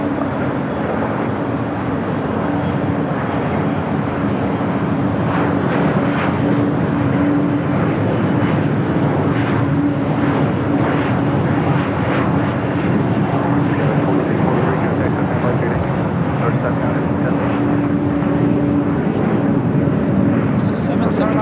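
An airliner rolls for takeoff on runway 25 right at Los Angeles International Airport, its engines a steady, broad roar that holds loud and even throughout, with radio chatter faintly underneath.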